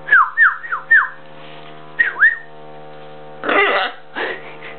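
A pet macaw whistles nearby, giving four quick descending whistles, then two more, followed by a rough, throaty squawk and a shorter raspy call.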